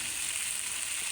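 Eggplant slices frying in a pan give a steady, soft hiss of oil sizzling throughout, quiet and even, with no voices over it.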